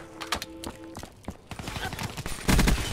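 Rapid video-game gunfire from Black Ops 3, several sharp bursts and single cracks in quick succession, ending in a heavier burst with a deep rumble. A faint voice is heard at times.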